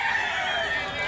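White sweater gamecock at a rooster market in Mantalungon, Barili, Cebu, a brief loud crow close by with a voice talking over it.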